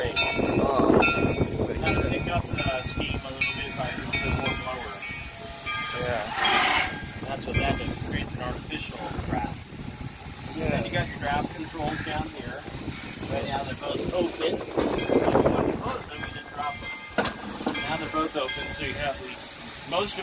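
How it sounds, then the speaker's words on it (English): Great Western steam locomotive with its blower opened to draw the fire, giving a continuous rushing steam hiss that swells into louder bursts and then eases, with someone talking over it. "Now I can increase the heat ratio by increasing the blower like this."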